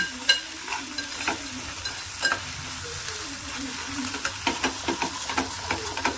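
Ginger garlic paste is stirred into onions frying in a pan, giving a continuous soft sizzle broken by repeated scraping stirs that quicken toward the end.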